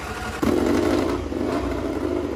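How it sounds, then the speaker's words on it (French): A MotoGP racing motorcycle engine is started directly at the motor, a sharp catch followed by a loud, steady idle running close by. "On va allumer une moto GP directement au moteur."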